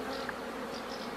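A wild honey bee swarm buzzes in a close, steady drone with a faint higher whine layered over it, continuous and unbroken for about a second with no voices.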